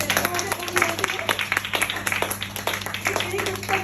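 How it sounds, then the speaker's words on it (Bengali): Scattered audience clapping at a club's annual leaders' meeting, uneven bursts of hand claps rising and falling beneath a voice speaking over them. "একটু হাতে তালি দাও তোমরা"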